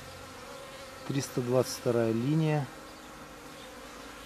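Honey bees hum steadily at a hive throughout, a low continuous drone, while someone speaks briefly over it in the middle.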